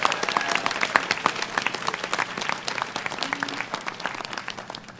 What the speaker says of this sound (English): So I want to give a round of applause to the speakers for just putting all their best work out there